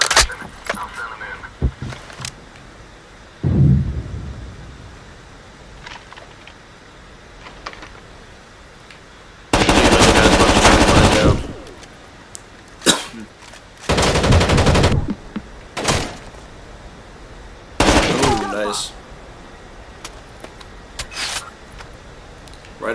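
Video game gunfire on a Rainbow Six Vegas 2 rooftop map, heard as several loud, sustained bursts of automatic fire lasting one to two seconds each, with scattered single shots and quieter clatter in the gaps between them.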